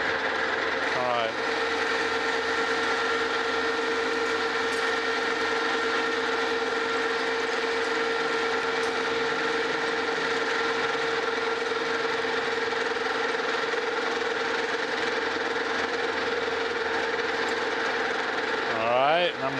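A metal planer machines a flat belt pulley on its last pass: a steady, even mechanical hum with a faint rhythmic clatter underneath, running continuously and close, with a couple of brief scraping accents.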